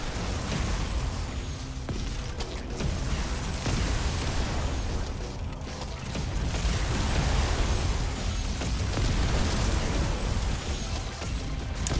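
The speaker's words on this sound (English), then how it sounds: "Rocket launcher." Rocket launcher fire and blasts in a zombie survival video game, a dense, continuous rumble of explosions and booms at moderate level with no talking.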